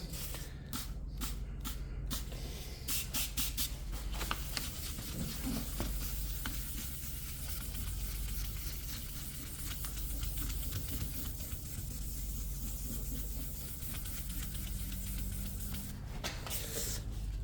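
Rhythmic wet scrubbing and hissing strokes repeat steadily as wet-and-dry abrasive paper is rubbed back and forth over wet, soapy car paint, close and moderately quiet.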